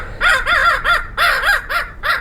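A voice imitates a flock of crows cawing at an aviary: six or seven loud, close, rasping caws in quick, uneven succession, with no other talk.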